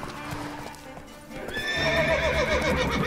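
In The Witcher III: Wild Hunt, a horse's hooves clip-clop, then a loud whinny rings out over quick galloping steps, all within a few seconds.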